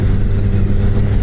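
Suzuki Hayabusa motorcycle engine on the road, a loud, constant low rumble heard close up for a moment with no voices.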